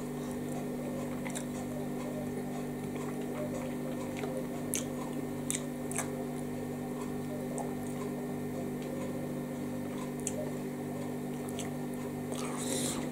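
Someone quietly chews a mouthful of bolognese sauce from an ASDA yellow label beef lasagne. Soft, close, wet mouth clicks and squishes repeat over a steady low hum, with no talking.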